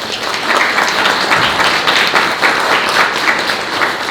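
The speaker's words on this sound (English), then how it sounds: "Let's give everybody a round of applause who helped today" Loud, close applause from a crowd at a book launch and first public reading, dense overlapping claps swelling slightly in waves and continuing steadily throughout.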